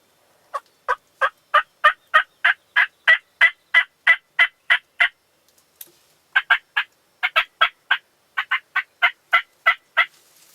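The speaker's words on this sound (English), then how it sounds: "They are gobbling it." Wild turkey toms gobble in a spring Kansas field, a long run of rapid, loud, regularly spaced calls, a short pause, then another burst of repeated gobbles, clear and fairly close with no talk.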